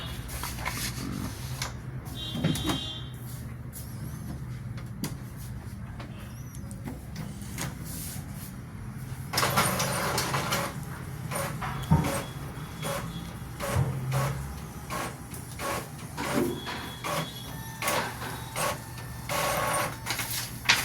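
An HP or Epson printer in a repair shop runs a black test page, giving a long stretch of mechanical feed and print-head whirring with repeated clicks and clunks, close and steady, with occasional faint background noise.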